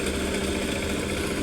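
A walking tractor's small engine runs continuously while driving a compact rice thresher in Laos, giving a steady, loud, unbroken drone with no pauses.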